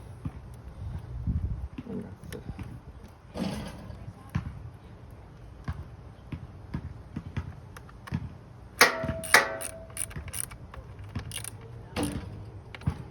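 Ratchet clicks and metal clatter come as a 10mm socket tightens the negative battery terminal bolt on a 1995 Honda Nighthawk 750 motorcycle, with scattered short bursts, a sharper run of clicks near the end and a voice speaking at times.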